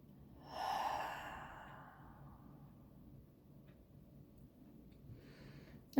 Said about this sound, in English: let's take a deep breath in.